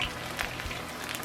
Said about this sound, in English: my oil's hot enough to fry now, so we're frying the chicken up.